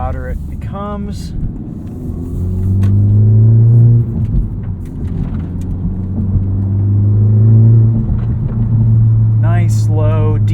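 Revving 2023 Honda Civic Type R with a muffler-deleted exhaust, heard from the cabin as a deep, swelling drone that climbs twice in pitch and loudness, with brief wind or road noise and a short voice at the start and end.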